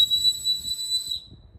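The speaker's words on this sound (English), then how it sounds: "I think this is a whistle" A small whistle built into the handle of a QuadKit survival tool gives one piercing, high-pitched blast lasting just over a second before cutting off, close and loud.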